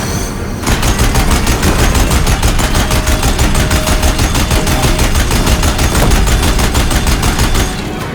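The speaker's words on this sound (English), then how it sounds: "If the Deathbringers keep firing," Deathbringer machines in Horizon Zero Dawn firing their guns, a loud continuous rapid-fire stream of evenly spaced shots that stops abruptly near the end.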